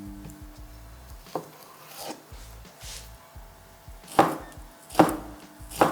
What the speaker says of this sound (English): And now we're going to cut the salami into quarters